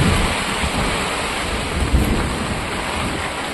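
Steady rain pours down without a break, a dense, even hiss that fills the whole stretch, with a low rumble of thunder rolling underneath; no voices are heard.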